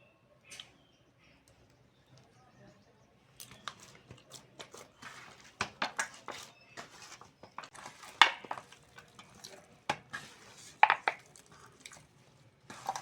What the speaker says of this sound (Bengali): এইবার এর মধ্যে আমি অল্প করে সাদা তেল দিয়ে ভালো করে মেখে নেব